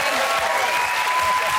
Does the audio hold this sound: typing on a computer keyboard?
no